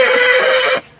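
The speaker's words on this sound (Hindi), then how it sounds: "अभी तक मेले का सबसे ऊंचा घोड़ा यही दिख रहा है" A tall horse at the Bateshwar livestock fair in India gives a loud, close whinny that holds for most of the second, then breaks off abruptly near the end.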